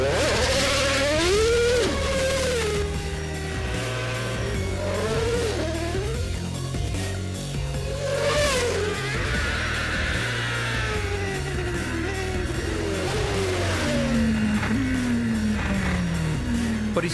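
A Formula 1 car is heard in Holland with its high-pitched engine whining up and down through gear changes, rising and falling harmonics, loud and continuous, no talk.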